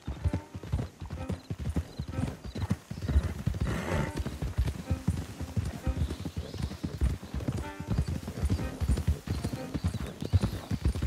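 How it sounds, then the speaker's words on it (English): Horse hooves in Red Dead Redemption 2 clop steadily on hard ground, several animals walking at an even rhythm, with a faint snort partway through. "Don't want the horses clopping around outside the window."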